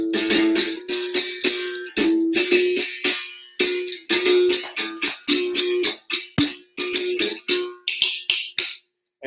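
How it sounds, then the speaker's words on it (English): A berimbau, the Brazilian capoeira bow, struck rapidly with the coin lifted off the wire, giving a bright, buzzing twang in quick rhythmic bursts that ring close and loud without talk. "And so that's the berimbau,"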